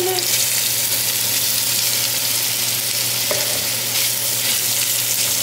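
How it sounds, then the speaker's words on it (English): Sausage fries in a hot pan with a constant, dense sizzle and crackle, close and loud, with a brief clink partway through and faint tonal hum beneath. "I'm going to go ahead and put my sausage in the pan because the pan is hot now"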